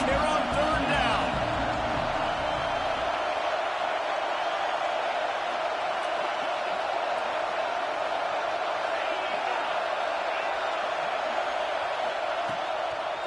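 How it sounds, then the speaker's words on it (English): Stadium crowd at Auburn roaring on third down in a PS5 college football video game, a steady, broad wash of cheering noise that holds at an even level throughout, without a break. "This Auburn crowd trying to conjure up a little magic here on third down."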